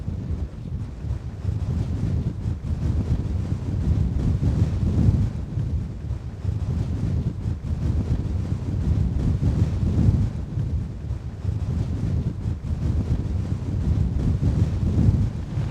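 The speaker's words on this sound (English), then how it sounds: "It is very windy and very cold up here" Strong wind roars and buffets the microphone on the exposed summit of Scorgui, a Scottish mountain about 1118 metres high, a loud, continuous gusting rush lasting throughout with no voices.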